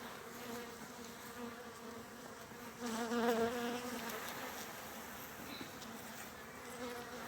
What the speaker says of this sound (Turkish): Arılar tabi bayağı bir hırçınlaştılar.